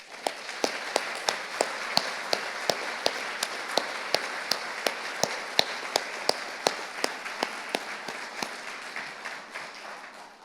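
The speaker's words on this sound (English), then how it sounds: "applause." An audience at a ceremony welcoming a new deputy district engineer of the Nashville District applauds steadily. Many hands clap close and loud, with sharp claps standing out, and the clapping runs unbroken for about ten seconds before beginning to fade.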